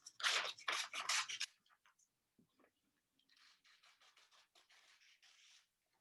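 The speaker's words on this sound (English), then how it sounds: "So cut all of your squares." Scissors snip through paper storyboard squares, a few loud crisp cuts at first, then a pause and a run of softer, quicker snips and paper rustles close by.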